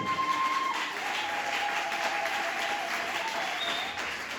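A church congregation breaks into loud, dense applause that holds steady throughout, with crowd clapping spread evenly in a reverberant hall.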